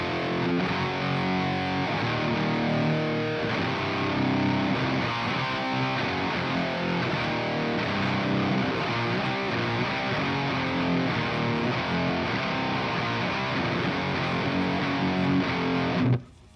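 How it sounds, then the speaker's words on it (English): Heavily distorted electric guitar chords, played through an amp simulator plugin, play continuously with a thick amplified tone, ending with an abrupt cutoff. "there's a lot of different tones that can be done with this plugin."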